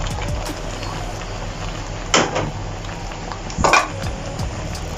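Afang leaves being stirred into a pot of soup, with a spoon scraping and clanking against the pot in two distinct bursts over a continuous low cooking hiss.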